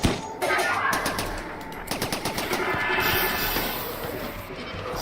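Dense, continuous automatic gunfire in a Rimworld colony battle, with rapid rattling bursts and overlapping shots that stay loud and unbroken throughout.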